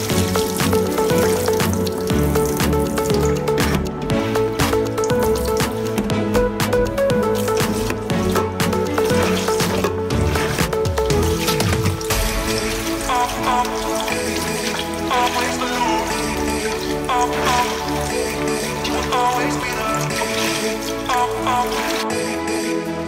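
Laundry being rinsed by hand in water in the 19th-century manner, with steady sloshing, squishing and splashing throughout, close and continuous, with no talk.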